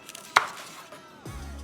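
A knife chops an onion on a cutting board, with one sharp distinct chop followed by quieter kitchen handling and a low thud near the end.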